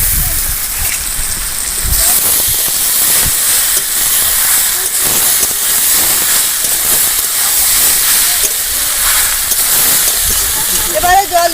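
Fish being added to hot oil in a pan, cooked outdoors at Bakkhali after river fishing, with a loud steady sizzling hiss that runs unbroken throughout.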